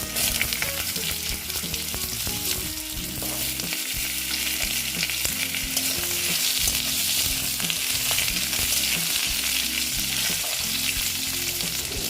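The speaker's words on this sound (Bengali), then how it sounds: "আলুটা দিয়ে অল্প ভেজে নিচ্ছি তারপর দিচ্ছি মিষ্টি কুমড়ো" Potato and pumpkin fry in a pan with a continuous, close sizzle at an even level, over a low humming background and with no talking.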